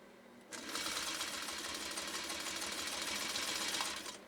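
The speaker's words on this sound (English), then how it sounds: "We'll lay down some stitching, we'll make our turn, and then we'll come back to the finish." A 1952 Singer 301 sewing machine stitches at speed, a steady fast whirring rattle that starts abruptly, runs for several seconds, then stops, fairly quiet and close with no talking.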